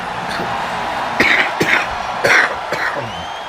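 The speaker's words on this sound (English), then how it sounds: "Excuse me, ladies and gentlemen, for that coughing" A few short, harsh coughs break out over a steady background murmur, spaced unevenly across a couple of seconds.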